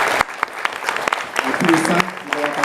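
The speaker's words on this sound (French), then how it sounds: "On peut les applaudir" An audience applauds at the close of a round-table panel on sustainable and local food, sharp scattered claps from a modest crowd, with a voice speaking over them.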